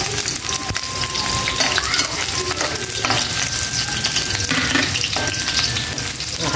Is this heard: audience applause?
no